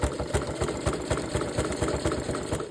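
A sewing machine stitches a jelly roll rug in a fast, steady, rhythmic chatter of needle strokes, close and continuous without talk.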